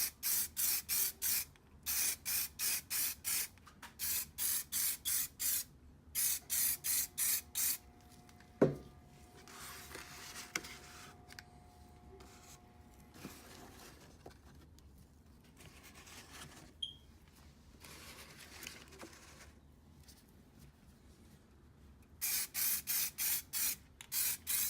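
Spray paint hisses onto a Honda S2000 RPF1 wheel hub being refinished, in close, sharp bursts at the start and end, with quieter handling noises and a single knock in the middle.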